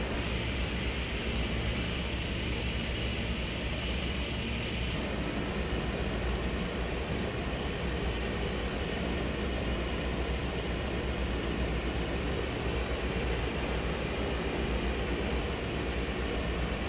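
An airplane taxis along a runway in a flight simulator game, with a continuous loud engine drone and hiss that holds steady throughout and no voices.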